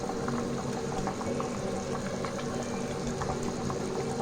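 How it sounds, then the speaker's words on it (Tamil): Fish curry simmers in a clay pot on a stove, a steady close bubbling and popping that continues evenly without talk. "இது மண் சட்டின்றதுனால உங்களுக்கு கொதிச்சுக்கிட்டே தான் இருக்கும்"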